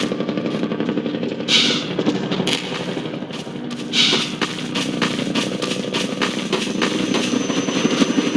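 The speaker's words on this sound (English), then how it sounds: "here is where we fully introduce the main boss of the Canals chapter, the Combine Attack Helicopter." The Combine Attack Helicopter in Half-Life 2's canals chapter: rotor thumps and engine whine in a game soundscape, with rhythmic chopping and a couple of sharp metallic clanks.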